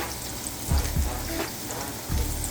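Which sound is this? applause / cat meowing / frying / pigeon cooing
frying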